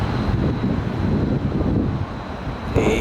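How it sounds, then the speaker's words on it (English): Strong wind roars and buffets the microphone outdoors in New Orleans' French Quarter, a constant low rumble with gusts throughout. "Got real windy out here."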